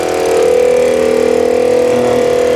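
A Mitsubishi car engine idles close by while powering a 12V air compressor, giving a loud, steady, even hum with a faint rhythmic pulse throughout.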